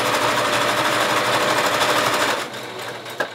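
A sewing machine runs steadily and loudly at close range, stitching back over elastic on a fabric face mask. The fast, even needle clatter slows and stops near the end, and a small click follows.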